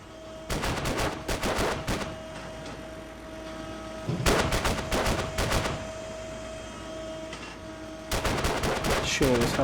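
Tigris anti-aircraft gun in Arma 3 fires at a helicopter in three loud, rapid bursts of heavy cannon fire, with quieter rumbling gaps between them.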